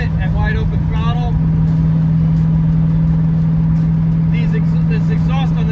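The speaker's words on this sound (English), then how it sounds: "It doesn't sound too bad when you're getting up on it at wide open throttle." A 1971 Ford Mustang engine with old-school glass-pack exhaust on 2 1/4 inch pipe, droning loud and steady at wide open throttle with a strong low hum, while someone talks over it.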